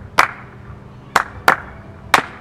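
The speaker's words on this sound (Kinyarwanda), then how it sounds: "Turabihuza n'amashyi noneho ngo" Four sharp hand claps in an uneven rhythm, close and crisp, with quiet pauses between them and no talking.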